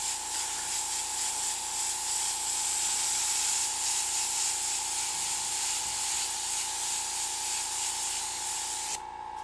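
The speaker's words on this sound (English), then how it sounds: "This is the spray." An airbrush sprays paint with a steady, continuous hiss that runs close and even throughout, cutting off sharply just before the end.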